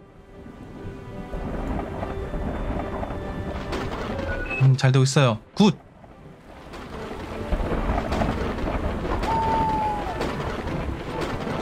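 Thunderstorm in an oil tycoon drilling and crafting video game, with a steady roar of rain and rumbling thunder throughout and a sharp loud crack midway, under a man's speech.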